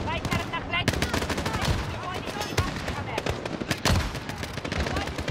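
Gunfire from a German weapon in Call of Duty Modern Warfare: rapid, sharp shots in dense bursts, with a few louder cracks standing out over the constant battle noise.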